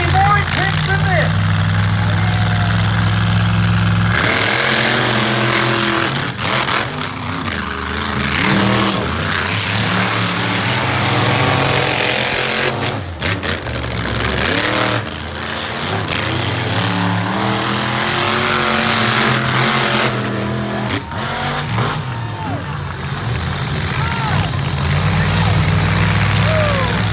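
Monster trucks racing on a double oval at an All-Star Monster Truck Tour show in Aiken, South Carolina, engines roaring and revving loudly and continuously close by, with an announcer's voice and crowd noise mixed in.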